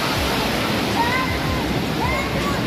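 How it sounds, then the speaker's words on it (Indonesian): Broad, steady roar of a waterfall at night pouring from above, a constant close wash of falling water with faint faraway voices beneath it. "Lihat air terjun, Masya Allah, air terjunnya dari atas seperti ini."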